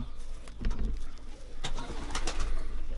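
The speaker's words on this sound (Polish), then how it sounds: "a teraz Sławkowi zademonstruję tego gołębia" Racing pigeon number 246, a bird that has already flown its fourth race, coos in low, throaty bursts close by, with a steady background hum underneath.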